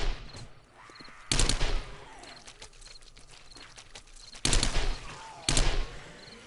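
Gunfire from the video game 7 Days to Die rings out in three loud bursts of rapid shots separated by quieter stretches of footsteps and background noise.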